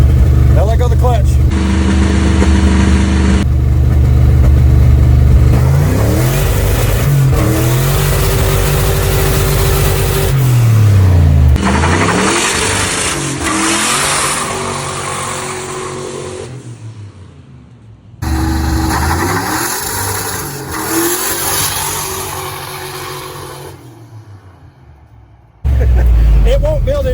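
A carbureted car engine in a garage revs and accelerates after the clutch is let go, loud repeated rising and falling sweeps with gear changes and brief cutoffs, with people talking over it.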